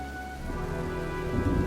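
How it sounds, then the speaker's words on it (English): Steady rain pours down in the video game Heavy Rain, a dense, constant hiss with low rumbling beneath that builds slightly louder toward the end, with no voices. "It's already raining."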